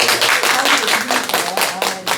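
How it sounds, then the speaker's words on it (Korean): A small group in a church Bible study class claps together briefly, a dense close burst of hand claps with a few voices underneath. "모두 잘하셨다고 박수 한번 쳐드릴까요?"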